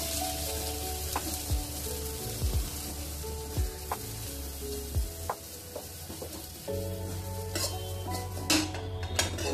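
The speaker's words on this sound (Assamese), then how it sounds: "চেওখিনি ভাজি হৈ গ'ল" Vermicelli frying in ghee keeps up a low sizzle under frequent metallic clinks and scrapes of a spoon against the pan, with soft background music and no voices.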